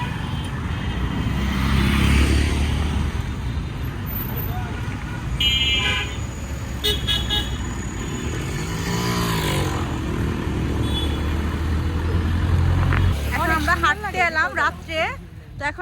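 Night street traffic at a road crossing in Mirpur, Dhaka, with passing car and motorcycle engines and scattered horn toots close by, while people talk throughout.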